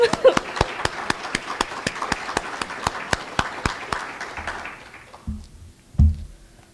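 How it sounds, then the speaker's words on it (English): Conference audience gives a round of applause for community activism: a run of evenly spaced, sharp claps, then a wash of clapping that thins out and stops, ending with a few low thumps. "round of applause for community activism"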